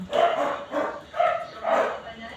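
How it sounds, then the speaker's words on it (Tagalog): A pet dog at home barks beside a backyard garden, four steady, evenly spaced bursts at moderate distance, while a person talks nearby. "ayun ang aking aso."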